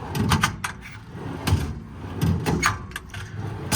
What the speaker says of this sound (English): All these drawers glide extremely easily.